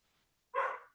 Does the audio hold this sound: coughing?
no